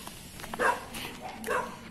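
Dogs on a street inside a residential subdivision let out a few short barks and yips over outdoor background noise, moderately close, in two or three quick bursts.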